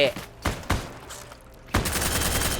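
Gunfire in the Heroes & Generals video game: a few sharp, loud bursts of shots spaced apart over a couple of seconds, with faint background sound between them.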